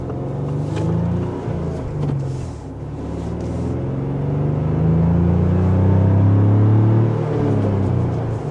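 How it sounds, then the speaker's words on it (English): Four-cylinder engine of a 2025 Ford Bronco base model with a manual transmission, heard from inside while driving, a loud low drone with rising and falling tones as revs change, steady and close. "I really love the sound of this 4-cylinder engine"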